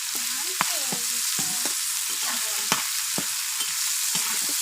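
Minced chicken frying in a pan for chicken chow mein, a constant close sizzle broken by sharp clinks and scrapes of a spatula against the pan, with faint background voices underneath.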